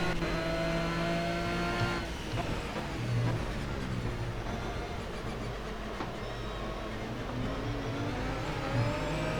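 Aston Martin V12 Vantage GT3 on the Circuit Bugatti at Le Mans in a racing game, its engine note climbing steadily as it accelerates out of a corner, loud and continuous with gear changes.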